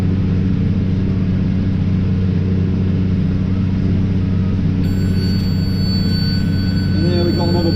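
A tractor crawling in its lowest gear while feeding hay into a baler gives a loud, steady, close diesel rumble with constant droning machinery and a faint high whine entering partway through.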